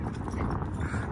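A pet horse walking near a parked camper van gives a few soft, close hoof clip-clops over a faint outdoor background, with no talk.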